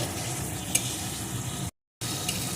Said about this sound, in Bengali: এখন ভেজে রাখা ডিমগুলোকে এর ভিতরে দিয়ে দেবো আবারও একটু ডিমগুলো এই মশলার সাথে কষিয়ে নেব